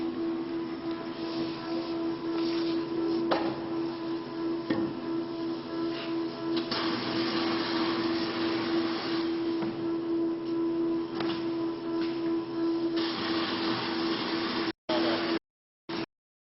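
A short run box maker machine cuts cardboard sheets to length, giving a steady continuous mechanical drone with a persistent tonal hum, loud throughout and then cutting out abruptly near the end with a couple of brief bursts.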